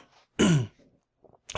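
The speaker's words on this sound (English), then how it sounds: "Cut out the cough." One short, harsh cough up close, followed by quiet breathing and a couple of faint vocal noises.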